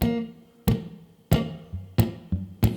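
Missed slaps on a guitar string, the nail striking imprecisely: five sharp percussive hits at an uneven rhythm, each a bright click followed by a short, dull, muted ring, close and alone.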